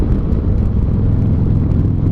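A Harley-Davidson motorcycle cruises along in sixth gear, its engine a dense, steady low rumble with wind noise running close and continuous throughout, with no talking.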